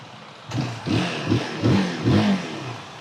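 A single-cylinder 350cc motorcycle engine, a GK350, revs while standing in a series of short throttle blips, rising and falling roughly every half second, close by and fairly loud.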